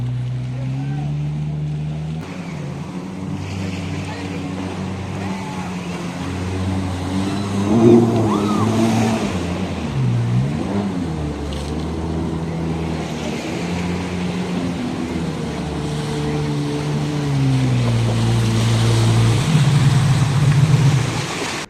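A jet ski or banana boat ride at Havelock Island in the Andamans, with a motor droning and revving steadily on the water, rising and falling in pitch over rushing water.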